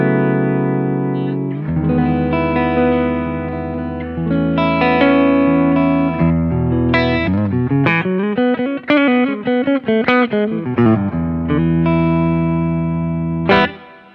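Electric guitar with a humbucker in the neck pickup through a DSM Simplifier Deluxe, notes and chords ringing out with lush reverb, sustained tones and a quicker melodic run before a final chord.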